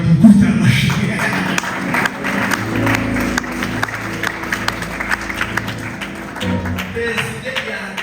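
Audience clapping at a lively gathering, a dense steady wash of hand claps that runs through the whole stretch, mixed with voices and tonal background sound.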